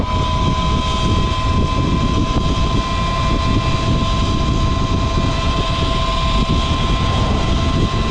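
Eride Pro SR electric motorbike ridden in eco mode, a loud, constant high-pitched motor whine with steady tonal hum over rushing wind and road rumble, unbroken throughout.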